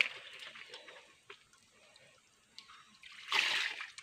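Water trickles and splashes faintly at an outdoor spot, with a louder burst of splashing near the end.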